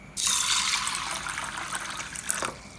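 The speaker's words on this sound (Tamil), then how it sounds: "துவரம்பருப்பு சேர்த்ததுக்கப்புறம் தண்ணி சேர்த்து" Water gushes into a bowl of toor dal to rinse the lentils. One strong, close pour starts abruptly, splashes steadily for a couple of seconds and then tapers off.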